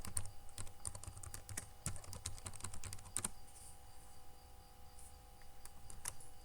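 Rapid keystrokes of a password typed on a computer keyboard, quiet clicks in irregular bursts with brief pauses, close by and without talk.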